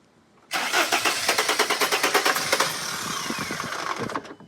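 A Mercedes T1N Sprinter engine with a suspected fault cranks fast on the starter, producing a rapid, even chugging rhythm that keeps trying to fire, then the cranking stops abruptly.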